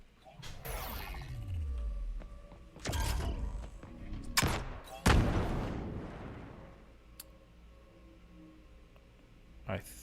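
Rocket launcher fire in Lyra, the Unreal Engine 5 sample game: several heavy booming launches with sharp cracks and rumbling tails, spaced across the stretch, one short final bang near the end, loud and close.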